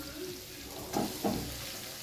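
Chicken pieces go into a pan of well-sautéed onions for chicken varuval, giving a steady low sizzle with two short, louder bursts of frying close by.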